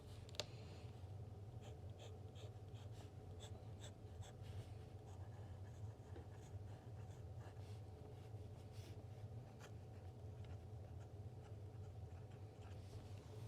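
Esterbrook JR Capri fountain pen with a medium nib writing on paper, a faint continuous close scratching with small ticks as strokes catch, over a low steady background hum, no talking.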